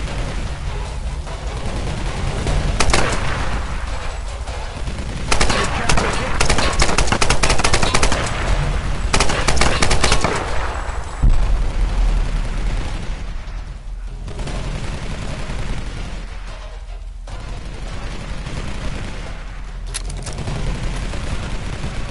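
Loud, sustained automatic gunfire in the Tomb Raider Definitive Edition game, dense rapid bursts and booms filling the whole stretch with brief lulls between volleys.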